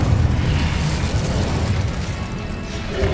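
Incendio fire spell cast in Hogwarts Legacy, a loud rumbling burst of flame with a deep, sustained roaring boom and crackling that stays dense throughout, with no voices.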